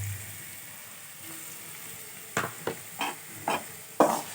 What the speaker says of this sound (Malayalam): നന്നായിട്ട് വഴറ്റിയെടുക്കാം. ഇങ്ങനെ വഴറ്റി എണ്ണയൊക്കെ തെളിഞ്ഞ് വരണം.